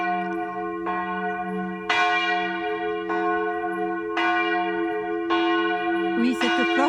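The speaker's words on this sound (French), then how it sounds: "cette cloche s'appelle Catherine" Catherine, a church bell in Fraisse, rings close and loud. Evenly spaced strikes come about every second, each leaving a long shimmering hum that overlaps the next.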